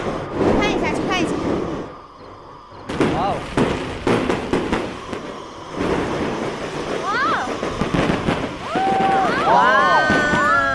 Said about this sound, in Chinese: 烟花， 放炮了。